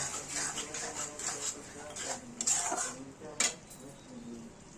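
A spoon mixing salt and sugar into fish pieces in a bowl gives quiet clinks and scrapes against the bowl, a few sharper taps standing out, faint overall.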